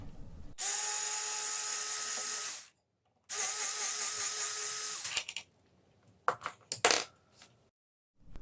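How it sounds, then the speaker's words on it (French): A power screwdriver backs out two screws on a Teverun Fighter 11 electric scooter, giving two loud, steady whirring runs of a few seconds each, followed by a few sharp metallic clicks and rattles. "Pour le faire, vous avez ces deux vis à dévisser, et ça sort très facilement."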